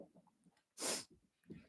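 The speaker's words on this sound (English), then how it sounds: "Good double sneeze." A single loud, sharp sneeze bursts out near the mic during a lively fight-night watch party, set between quieter breaths and low murmurs.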